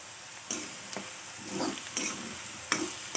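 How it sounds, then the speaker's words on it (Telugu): Chili powder frying in oil with onions for a mutton fry, a steady soft sizzle with a few light spoon scrapes and stirring clinks along the way. "ఎందుకంటే కారం ఆయిల్లోనే ఉడకాలి, అప్పుడు టేస్ట్ బాగుంటుంది."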